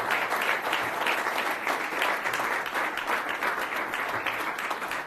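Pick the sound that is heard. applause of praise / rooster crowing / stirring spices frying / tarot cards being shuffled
applause of praise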